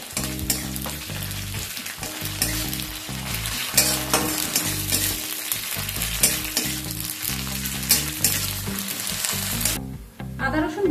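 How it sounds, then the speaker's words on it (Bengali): Ginger-garlic paste frying with onions in a pan, a loud continuous sizzle with stirring scrapes, while music plays steadily underneath throughout. "আদা রসুনটাকেও কিছুক্ষণ ভেজে নেব যতক্ষণ না এর কাঁচা গন্ধটা চলে যায়"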